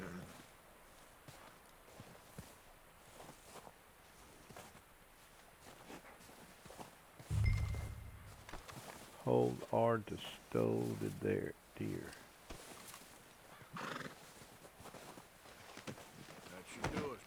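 A horse in the Red Dead Redemption 2 video game trots up with clip-clopping hooves and a brief whinny, mixed with game sounds and someone talking over it.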